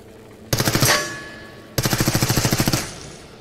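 Two loud bursts of rapid gunfire from a burst-fire weapon in the video game Into the Radius, the first short and dense, the second a longer run of about a dozen evenly spaced shots, close and with no talking.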